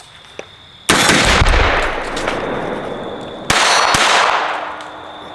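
Two sharp .22 caliber gunshots ring out about three seconds apart, each a loud crack followed by a long, ringing echo that fades slowly, with quiet background otherwise.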